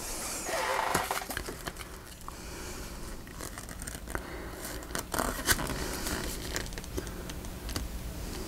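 Scissors snip angled cuts into paper pieces for a packaging journal, making scattered small clicks, snips and rustles close to the microphone in an irregular rhythm.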